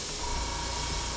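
Compressed-air paint sprayer hissing steadily as it sprays paint, a continuous close, broadband airy rush with no pauses and no voices.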